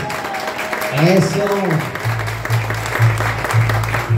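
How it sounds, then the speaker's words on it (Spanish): Audience applause for Patricia at a youth mariachi welcome performance, a broad clapping wash running steadily under a voice, with a pulsing low bass pattern entering partway through. "ese aplauso para Patricia, bien fuerte, los presentes"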